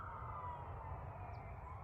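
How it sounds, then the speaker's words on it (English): A passing ambulance wails from a distance, steady and faint under a low rumble of traffic. "somebody going by in an ambulance"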